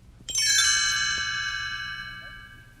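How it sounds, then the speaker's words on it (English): A single bright chime rings out clearly and then slowly fades, its shimmering tones lingering to the end. "You will know it is time to turn the page when you hear the chimes ring"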